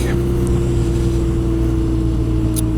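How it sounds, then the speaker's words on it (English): A 2017 BMW R Nine T Scrambler motorcycle's engine drones steadily and loudly throughout at constant pitch, a continuous exhaust rumble with no pauses. "great throttle sound, great exhaust note on this bike"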